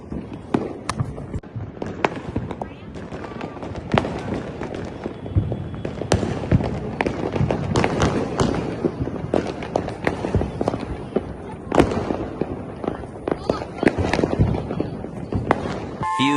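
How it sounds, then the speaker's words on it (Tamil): Bijili firecrackers burst for Diwali in a dense, irregular string of sharp cracks and pops, some close and loud, others overlapping, with voices talking and calling out among the bangs. "நாங்க இப்ப பிஜிலி வெடிய மாத்தி அடிச்சு விளையாட போறோம்"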